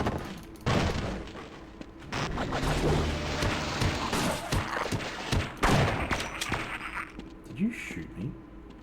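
Gunfire in the video game Half-Life, sharp repeated shots in bursts with loud booms, mixed with game noise and brief voices.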